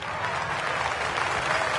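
Crowd applause for a tee shot in a golf video game: a short, steady burst of clapping from a gallery, even and moderately loud for under two seconds.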